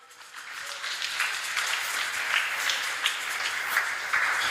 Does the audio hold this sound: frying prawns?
no